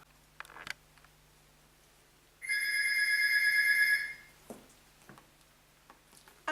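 A telephone rings once in a single sustained electronic trill lasting about a second and a half, fairly close and clear in a quiet room, with soft clicks and handling noises before and after it.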